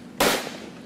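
A single sharp, loud gunshot from a Thai-made NA-RAC 556 rifle during test firing, a sudden blast that rings out and decays over most of a second, with no talking.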